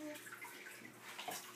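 Water splashes and trickles softly while a baby's hair is wet during a bath, a quiet, intermittent gurgle and patter nearby.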